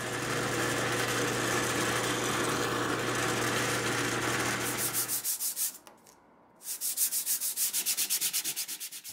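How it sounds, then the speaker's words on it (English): Hand sanding along the side of a plywood drag chain gives a steady, close scratchy rubbing for about five seconds, then a brief pause, then lighter rhythmic back-and-forth strokes. "I did a little hand sanding on the side of the chain just to clean it up"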